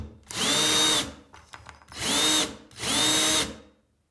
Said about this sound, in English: you get your little drilling screw again, and drill the two plates beautiful and tight